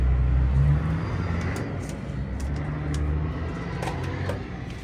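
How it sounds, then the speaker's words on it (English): A truck engine idles and runs in a low, steady rumble at a mulch unloading stop, close and constant throughout, with light clatter above it. "That truck sounds good."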